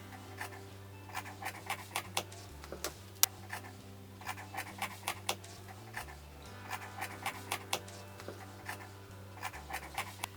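Cutting leggings fabric around a pattern at the waist makes a faint run of short scratchy snips and ticks, irregular and close, over a steady low hum.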